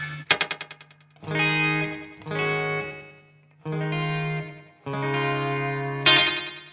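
Sustained electric guitar notes drenched in a delay effect, each chord trailing into dense repeats that smear together almost like reverb.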